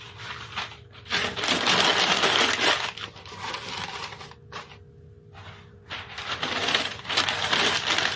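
Cut pieces of wrapping paper rustle and crinkle steadily as they are pressed into the bottom of a deep gift basket. The sound is close, with a brief pause midway.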